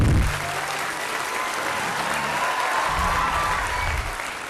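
A crowd at a Shaheen Group of Institutions event applauds the HODs, a dense and even burst of clapping that holds steady throughout and stays fairly loud, with no voices above it.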